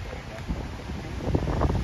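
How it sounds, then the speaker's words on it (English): Wind gusting outdoors near a construction site, a steady rushing roar with rising gusts toward the end, loud and close on the microphone. "it's definitely windy here"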